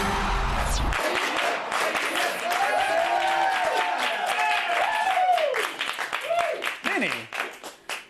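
Studio audience applause for a live tech entertainment show, steady dense clapping throughout with cheering and voices mixed in, tapering off toward the end.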